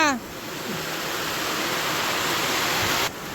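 Heavy rain pours down in a steady, dense hiss, close and loud throughout, with a brief voice fragment at the start.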